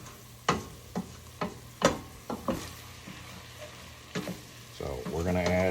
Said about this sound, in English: you want to stir all this in real good now